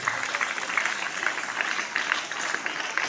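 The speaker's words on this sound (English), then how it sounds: "So give them a clap." Clapping for the teachers at a Men's Day school assembly in Dornakal comes across as a moderate, slightly distant patter of many hands, steady and fairly soft throughout.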